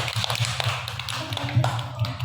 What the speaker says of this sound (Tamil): கை தட்டுங்க